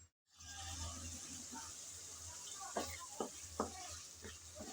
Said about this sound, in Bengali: কিছুক্ষণ সময় নিয়ে মশলা আমি কষিয়ে নিলাম।